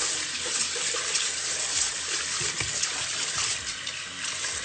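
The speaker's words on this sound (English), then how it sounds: "What I usually do is I wash the rice 3 times" Water gushes steadily into a pot as rice is washed, a loud continuous splashing and pouring with small swirling bursts, close up and without talk.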